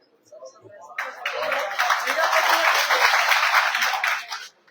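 A crowd at a political rally bursts into applause, a dense wash of clapping that swells, holds for about three seconds and stops abruptly, following a brief moment of low murmuring.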